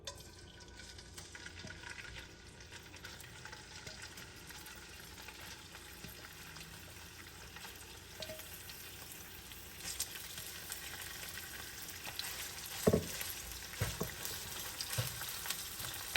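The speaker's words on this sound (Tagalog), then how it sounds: "Prituhin po muna natin ang ating shrimp" Shrimp fry in a pan for palabok, giving a faint, continuous sizzle with a few light scrapes and clatters, and no voices.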